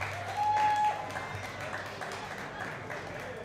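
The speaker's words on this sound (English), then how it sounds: "give me a round of applause" Mets fans in a room at a high school baseball championship celebration applaud: a moderate, steady patter of clapping that swells early and then fades slightly, with a voice faintly present.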